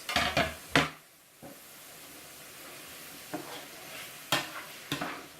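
Chopped tomato added to a sizzling skillet for ranch-style steak, a quiet steady sizzle broken by several sharp scrapes and clinks of a utensil against the pan.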